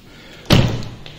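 A single solid thump as the door of a 2021 Aston Martin DBX SUV swings shut, loud and close, with a short fading resonance afterward.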